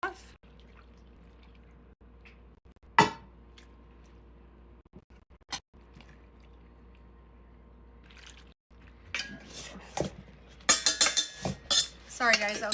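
A utensil clinks and scrapes against a bowl of sourdough stuffing mixture with butter, a few sharp knocks early on, then a burst of rapid clattering stirring toward the end.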